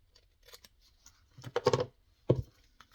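Scissors trim excess material in a craft project, giving a few quick crisp snips, with the louder cuts clustered near the middle and end of a quiet stretch.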